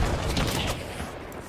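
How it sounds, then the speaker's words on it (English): Shotgun blasts in the game Hunt: Showdown, loud and close, a quick cluster of reports blurring into a dense burst before tapering off. "He plays with the shotgun."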